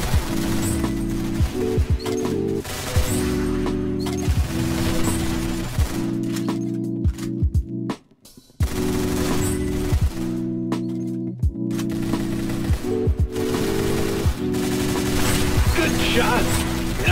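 Rapid gunfire in the Roblox shooter Arsenal, repeated bursts of shots over a continuous backing track, with a short break partway through.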